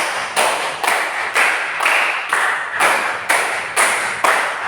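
A group claps in time during a classroom clapping exercise, about ten evenly spaced, loud, ringing claps in a steady rhythm, with no talking.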